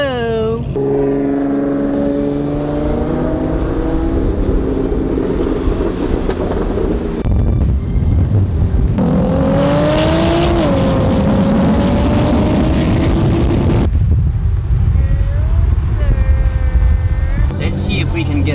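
Supercars, a Nissan GTR and a Lamborghini, driving out of a driveway, loud engines revving and droning with rising and falling pitch, close by, with voices talking over them.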